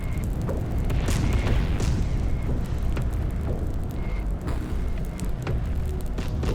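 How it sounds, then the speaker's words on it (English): Artillery barrages and explosions rumble continuously in a military video game, with repeated deep booms and sharp blasts layered over a dense, loud battlefield din, no voices. "artillery fire is getting annoying"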